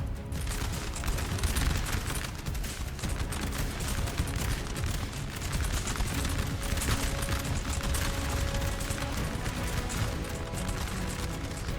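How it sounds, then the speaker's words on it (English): Infantry musket fire in the Napoleonic-era battle game Napoleon Total War: a dense, continuous crackle of many overlapping volleys, with distant booms, loud and unbroken throughout with no talking. "Austrian infantry laying fire to these French lines."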